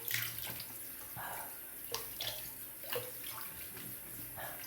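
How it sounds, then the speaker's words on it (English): Cold tap water runs into a sink while a face is rinsed before shaving, a steady hiss of flow broken by repeated splashy scoops and slaps of water, nearby and without speech. "All right, let's rinse my face. Got some cold water"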